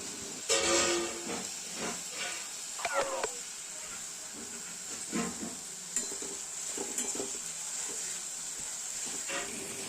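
Chopped onion frying in oil in a home kitchen pan, a steady sizzle and hiss broken by stirring scrapes and a few clinks of utensils, close and moderately loud, with a hint of voice in the background.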